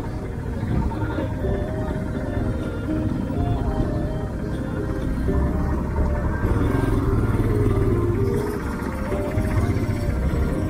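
A Royal Enfield Himalayan motorcycle rides a bumpy, potholed hill road up to Nandi Hills, its engine a continuous close rumble with rattles and clatter from the rough surface throughout.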